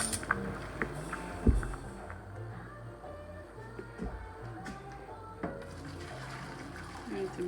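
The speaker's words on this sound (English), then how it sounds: "So now I'm gonna pour off the water." Hot water poured off a pot of cooked spaghetti, a steady rushing splash that runs the whole time while someone talks over it.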